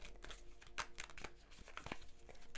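Soft, rapid papery riffling and flicking of tarot cards being shuffled, a quick burst of crisp slaps and rustles repeating unevenly, fairly close and moderately quiet.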